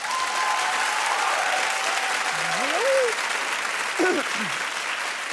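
Studio audience applause on a daytime talk show, a steady broad wash of clapping running the whole time, with a brief spoken interjection and a couple of voiced exclamations rising over it.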